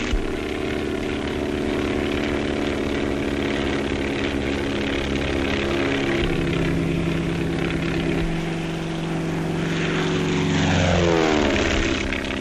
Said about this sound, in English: The planes must be light and fast so they can be easily maneuvered.